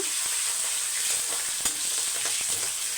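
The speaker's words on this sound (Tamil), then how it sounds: "இப்போ வெங்காயம் வந்து இந்த அளவுக்கு வதங்கினா போதும்" Small shallots and a dried red chili sizzle steadily in hot oil in a pan, a dense continuous frying hiss with a few faint stirring clicks and no voices.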